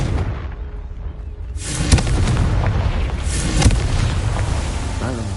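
A Confringo fire spell in Hogwarts Legacy goes off as sharp booming blasts that pop over a steady hum of game ambience, with a faint voice heard briefly.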